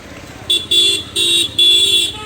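A bus at Manavi bus stand sounds four loud, sharp horn toots, each lasting a fraction of a second, over quiet background station noise.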